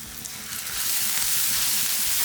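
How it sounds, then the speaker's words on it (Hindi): Fresh cream is poured into a pan of shrunken mushrooms seasoned with black pepper and salt, and the sizzle swells from a quieter start into a steady, broad hiss. "अब इसके अंदर डालेंगे हम फ्रेश क्रीम।"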